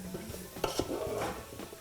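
Homemade okra gumbo with meat gets stirred in a pot, with quiet scraping and a couple of clinks of a utensil against the pot over a faint background simmer.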